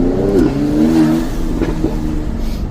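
A 2021 Mercedes-AMG GLC 43 with BTS catted downpipes revs up, its engine note rising in one sweep, then settling into a loud, steady drone.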